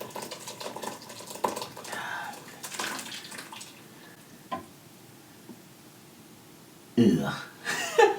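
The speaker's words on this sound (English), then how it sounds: "Let's give it a good old pour." Thick seafood boil sauce pours into a bowl with a sloshing, liquid stream while people talk and chuckle over it, the splashing surging again near the end.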